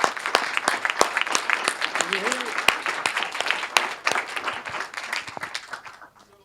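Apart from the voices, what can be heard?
audience applause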